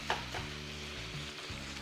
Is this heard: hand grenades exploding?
no